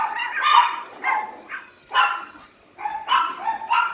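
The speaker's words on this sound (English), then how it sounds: "Noisy dogs." Several dogs bark repeatedly in loud, overlapping bursts with short pauses between, fairly close by.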